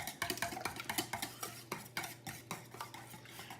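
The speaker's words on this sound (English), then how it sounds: "Now I'm going to whisk 8 eggs." Eggs, eight of them, whisked briskly in a bowl for a breakfast casserole, the whisk clicking in a quick steady rhythm of sharp strokes, close and moderately loud with no voices.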